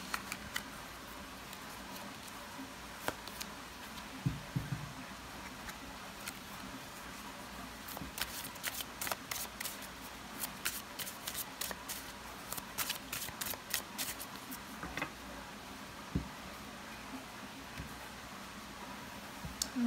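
An oracle card deck being shuffled, with bursts of quick papery riffling through the middle of the clip over a quiet room background.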